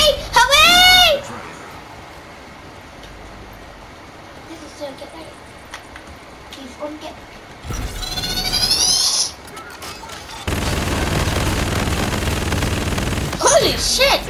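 Gunfire in a Call of Duty: Infinite Warfare multiplayer match, with a sustained burst of rapid automatic fire and an earlier shorter stretch, mixed with game effects, shrill voices and excited talking.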